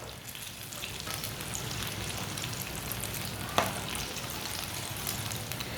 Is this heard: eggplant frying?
yes